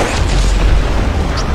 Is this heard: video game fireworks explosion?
yes